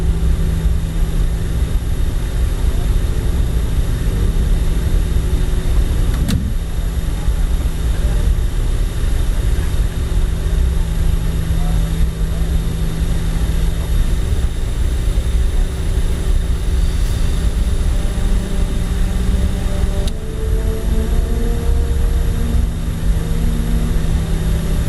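An Avro RJ airliner in Microsoft Flight Simulator, a steady, unbroken engine drone and whine lasting throughout, with a faint click or two and no talking.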